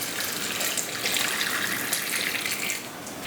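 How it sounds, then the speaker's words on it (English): Hot water pours steadily into a glass jar of carrots being readied for pressure canning, a close, continuous gushing splash that eases slightly near the end. "the next thing you do is you backfill your jar with hot water"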